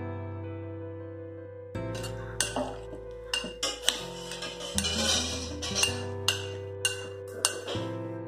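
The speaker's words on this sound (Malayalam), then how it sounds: "ഇനി ഇത് സ്പൂൺ എടുത്ത് നന്നായിട്ട് മിക്സ് ചെയ്യാം." A spoon clinks and scrapes against a bowl while mixing cauliflower with spice powder, a series of bright metallic taps over a low steady hum.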